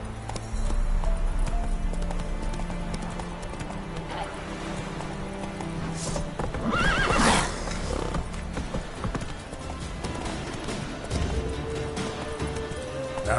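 The horse Roach gallops in a PS4 video game with a steady, rapid clip-clop of hooves throughout and a whinny in the middle, loud and close, while someone speaks briefly over it.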